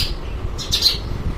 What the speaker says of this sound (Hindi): चिड़िया की आवाज़ आ रही है।